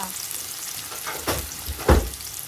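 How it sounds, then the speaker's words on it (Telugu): Onions tipped into hot oil in a pan with cinnamon, producing a steady close frying hiss with two louder bursts of sizzling as more pieces drop in, no speech. "ఈ ఉల్లిపాయలు వేస్తుంటే వచ్చే సౌండ్ ఉంది చూసావరా"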